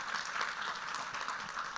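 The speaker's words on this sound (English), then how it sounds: "Round of applause, please." An audience applauds at a panel session, a steady wash of clapping filling the room at even strength with no distinct individual claps standing out.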